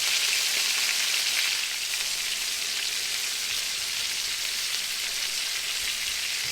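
A beef roast sears in bacon fat in a pot, giving a steady, loud, close sizzle and hiss that holds evenly throughout, with no talking.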